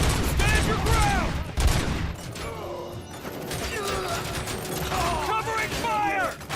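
Rapid bursts of gunfire in the video game RoboCop Rogue City, with clattering shots and crashing impacts, loud and dense, mixed with voices and scattered electronic whines.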